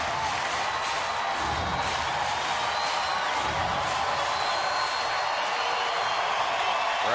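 A baseball crowd at Minute Maid Park in the bottom of the ninth produces a steady, hissing roar of cheering that stays constant throughout, with no distinct peaks.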